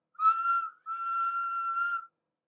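A small narrow-gauge steam engine's whistle gives two clear blasts, a short one followed by a longer sustained one, with silence around them.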